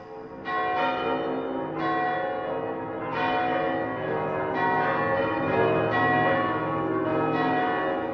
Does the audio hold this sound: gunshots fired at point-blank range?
no